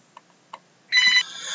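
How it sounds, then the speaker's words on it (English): A telephone rings indoors: a couple of faint clicks, then a short, loud electronic ringtone burst that fades into a softer tone. "Sorry for the phone interruption."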